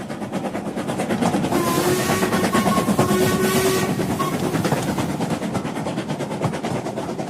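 Train wheels rattle along rails in a radio-drama sound effect, a steady rhythmic clatter with a brief whistle-like tone rising midway, then fading slightly toward the end.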